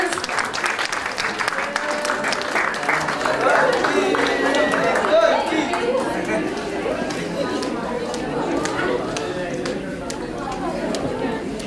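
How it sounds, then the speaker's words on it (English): An audience at a college fashion event applauds the award winners, sustained clapping mixed with crowd chatter and a voice talking over it, tapering slightly toward the end. "So big round of applause for all the award winners"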